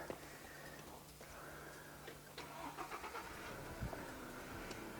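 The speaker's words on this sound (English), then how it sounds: "we need to restart the car" A 4x4 engine cranks and restarts at a winching recovery exercise, a faint ticking idle with a brief rumble of ignition, heard at low level amid outdoor background noise.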